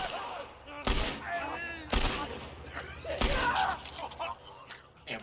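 Gunfire in a first-person shooter video game: three loud, sharp shots land roughly a second apart, with someone talking over the game audio in between.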